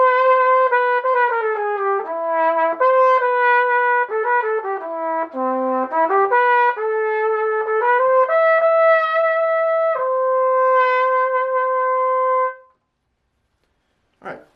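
A solo trumpet plays a lyrical line from a song, sustained and legato with a few short rhythmic notes, close and clear, ending in a held tone followed by silence.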